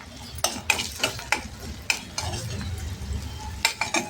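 Tomato pieces and turmeric stirred in a hot pan for a traditional Maharashtrian urad dal, with a spoon scraping in several distinct strokes over a low, steady sizzle, close and fairly loud.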